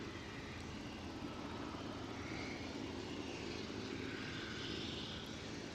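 An easyJet airliner taxiing back out at Aberdeen airport, a steady distant engine roar and broad whine holding constant throughout, moderately faint with no voices.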